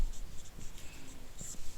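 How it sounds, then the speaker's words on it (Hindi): Pen writing a note on a surface during a maths lecture, a steady faint scratching with short strokes and soft scraping throughout. "देखो एक नोट लिख देते हैं।"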